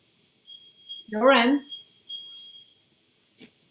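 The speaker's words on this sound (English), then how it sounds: "Is that a fire alarm at your end or my end?" A fire alarm sounds as a steady high-pitched electronic beep, faint and intermittent in the background, while a person speaks briefly over it.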